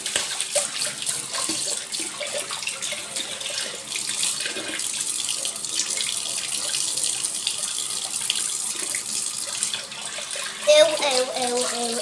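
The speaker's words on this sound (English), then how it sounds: "I'm gonna wash my hands." Tap water runs steadily into a sink as hands are washed, a close continuous splashing hiss lasting throughout, with a brief brighter burst near the end.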